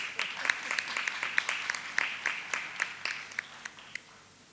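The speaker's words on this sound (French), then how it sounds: "Votre applaudissement va être plus fort." Scattered audience applause at a medal ceremony for a signing event, sparse individual claps ringing out over a quiet room, fairly faint and fading toward the end.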